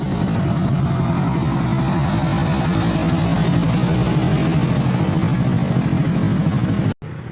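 A borrowed motorcycle on a ride near Sugpon, Ilocos Sur, its engine giving a steady close-up hum with a low rumble that holds even throughout, then cuts briefly near the end, with no talking.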